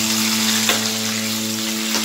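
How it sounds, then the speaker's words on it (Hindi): Cumin frying in oil left over from frying fish, making a loud, steady sizzle close up over a constant low hum, with one or two faint pops. "उसी तेल में हमने जीरा डाल दिए हैं"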